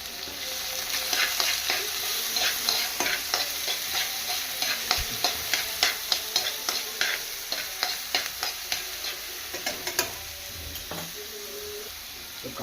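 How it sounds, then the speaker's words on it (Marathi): Onion roasts in a pan for a dried-fish curry, a steady sizzle with repeated sharp scraping clicks of a spatula stirring through it, growing more rhythmic toward the end. "कांदा मस्तपैकी लाल होईपर्यंत त्याला भाजायचा"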